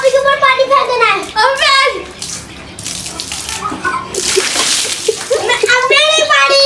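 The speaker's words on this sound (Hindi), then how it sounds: "अब आप ही के ऊपर पानी फेंक देना है" A bucket of water thrown over a person during a sibling game at home makes a sudden, loud splash and spatter between stretches of excited children's talk.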